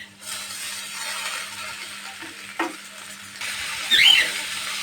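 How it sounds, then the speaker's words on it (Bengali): Potato slices and bitter gourd (ucche) fry in a pan, giving a steady sizzle with stirring scrapes and a brief clatter of the spatula near the end. "আলুটা ভাজা হয়ে গেলে করলাটা দিয়ে দিতে হবে, মানে উস্তাটা দিয়ে দিতে হবে।"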